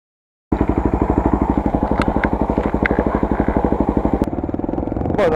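A Honda Tornado motorcycle engine starts and idles with a fast, steady, loud thumping pulse, heard up close throughout.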